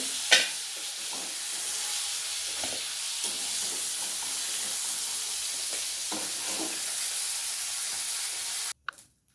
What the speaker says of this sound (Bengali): মাছগুলো একটু ভালো করে ভেজে নিই মাছগুলো আমার খুব ভালোভাবেই ভাজা হয়ে গেছে